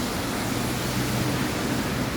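Flood water running through Dubai streets, a steady broadband rushing wash like a stream or waterfall, continuous and fairly loud with no pauses.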